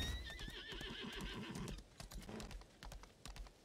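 A horse in the video game Lost Ark whinnies loudly as it is mounted, followed by quick clip-clop hoofbeats with short gaps, all close and clear without talk.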